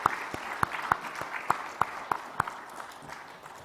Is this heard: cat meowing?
no